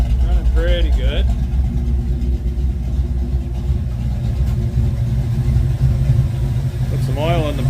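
A restored 1972 Ford Mustang Mach 1 V8 runs steadily after a carburetor adjustment, giving a loud, continuous low rumble close by with a couple of brief revs. Speech is mixed in.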